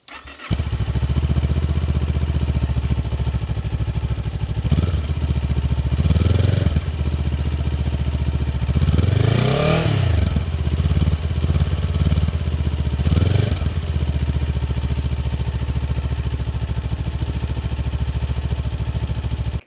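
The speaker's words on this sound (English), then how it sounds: "I will include here to show you what the stock exhaust sounds like" A 2021 Kawasaki Z400 with its stock exhaust idles with a low rumble, then revs up sharply several times, the high-pitched exhaust rising and falling between steady idling.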